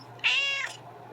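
Single clear cat meow, a short bright call lasting about half a second close to the mic in a quiet room.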